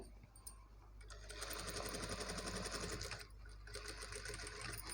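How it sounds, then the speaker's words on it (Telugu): A sewing machine stitches blouse fabric along a marked line, a steady close mechanical whir with a dense rapid needle rhythm that slows briefly and picks up again. "దీనిపై నుండి మనం ఒక స్టిచ్ వేసేసుకోవాలి."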